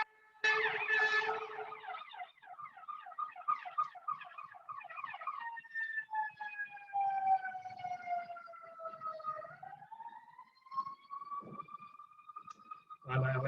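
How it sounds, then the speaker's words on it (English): Sirens from emergency vehicles pass along a Paris street, first a rapid yelping wail, then long falling and rising tones, loud nearby and then fading as they move off, followed by a sharp burst at the end. "And I let the sirens go past"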